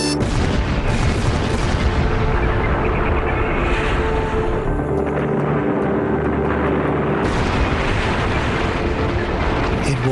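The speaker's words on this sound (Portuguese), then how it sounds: "A explosão parecia fogos de artifício." A massive dynamite blast breaching a canal dam at the Itaipu construction site on the Paraná river, a sustained heavy booming roar and rumble filling the whole stretch, loud and dense.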